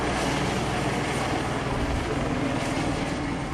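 Steady, loud helicopter rotor drone fills the whole stretch without a break, hovering over a police anti-drug operation with a heavy security presence.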